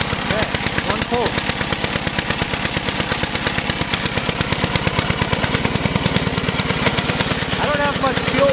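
Toro 524 snowblower engine started with a single pull on the recoil cord, then running with a fast, rough, rhythmic putter that stays loud and close throughout, with a voice briefly heard over it.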